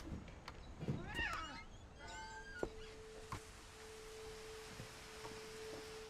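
Cat meows in the video game What Remains of Edith Finch, a few short rising and falling cries early on, followed by a steady electronic tone.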